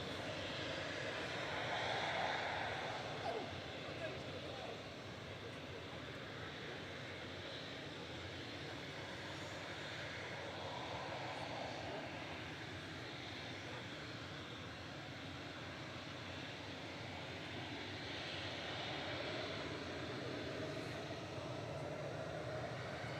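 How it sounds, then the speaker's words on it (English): An Airbus A380 airliner on approach to Manchester Airport, its broad, steady jet engine roar filling the air for the whole stretch, swelling slightly early on and then holding a continuous rumbling drone with no talk. "the A380 has just passed over Stockport, so a couple of minutes out"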